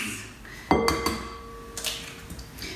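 Eggs cracked into a bowl for a lemon tart: a sharp crack against the bowl's edge, a second tap, then a softer knock and light clinks. Each sound is close and distinct, with no voices.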